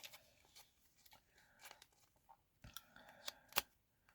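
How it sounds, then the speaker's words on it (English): Paper draw lots are shuffled by hand for a horse-racing draw. The sound is faint, quick rustling with small crisp clicks and crunches scattered irregularly over a few seconds, close by and quiet. "And I'll just give it a little shuffle."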